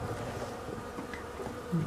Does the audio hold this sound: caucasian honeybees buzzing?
yes